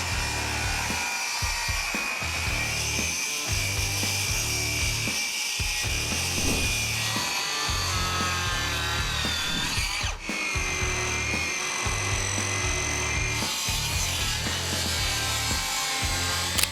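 Power saw cutting wooden boards for an outdoor bench, a steady loud whine with repeated rhythmic bursts as the blade bites through the wood, running continuously throughout.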